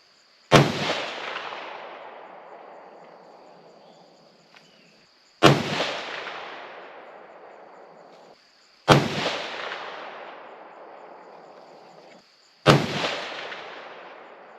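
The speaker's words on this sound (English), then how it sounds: "we'll give it a second to cool down, then we'll shoot our last 5." Four loud rifle shots from a Savage 110 Desert Tactical chambered in 6.5 Creedmoor, evenly spaced a few seconds apart, each a sharp crack followed by a long decaying echo.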